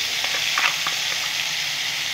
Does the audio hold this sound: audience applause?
no